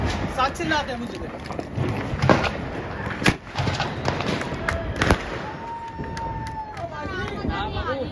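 Diwali fireworks and firecrackers bursting on rooftops, with repeated sharp bangs and crackles near and far, a whistling rocket rising, and people talking and shouting throughout.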